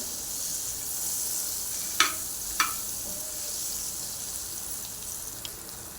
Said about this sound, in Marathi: आपण त्यामध्ये आधी टाकूया बटर बटर वितळून घेऊया